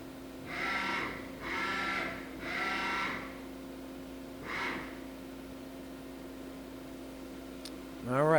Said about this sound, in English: I jog the turret.